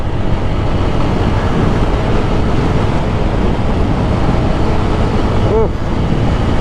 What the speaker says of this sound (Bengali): ওই পাশ দিয়ে ট্রেন যাচ্ছে